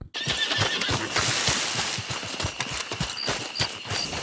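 A horse in the video game Red Dead Redemption 2 whinnies loudly while its hooves clop in a quick, uneven rhythm close by.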